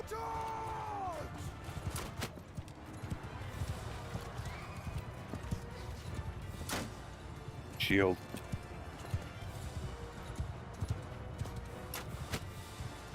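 Cavalry horses gallop in the medieval battle video game Bannerlord, with constant clip-clop hoofbeats and distant battle noise. A single horse whinny rises midway, and someone speaks briefly over the din.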